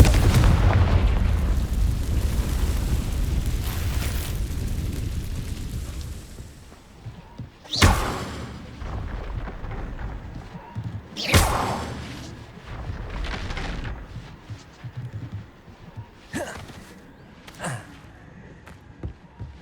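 A Confringo fire spell from Hogwarts Legacy goes off in a castle setting as a sharp blast with a crackling burst. Several loud impact booms follow at intervals over a low rumbling bed, with no talking.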